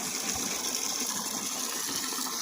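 Water gushes steadily into a goat watering trough on a farm, a close, continuous rushing pour with no talking.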